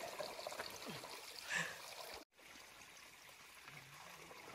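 A small stream trickles at a trail water source on the Tahoe Rim Trail, a faint steady babble with a brief cut partway through.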